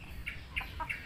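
A hen clucks softly nearby in a short run of three or four quick, bright clucks over a faint low background hum.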